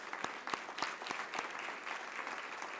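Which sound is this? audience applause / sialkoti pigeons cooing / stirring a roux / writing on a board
audience applause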